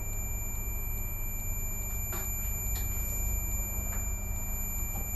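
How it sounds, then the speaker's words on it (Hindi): While fuses are tested, a digital multimeter emits a continuous high electronic beep that holds steady for several seconds over a low background hum. "तो इनको चेक करेंगे तो बीप साउंड करेगा"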